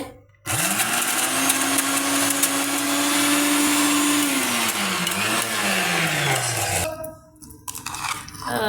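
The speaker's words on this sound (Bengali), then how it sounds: "শিফাত এখানে ব্লেন্ডারে জড্ডুমুরের ভর্তা বানাচ্ছে" An electric kitchen blender mashing figs into a bharta whirs loud and close, a steady motor whine that dips in pitch as the load shifts, then cuts off, leaving a few clinks and rattles.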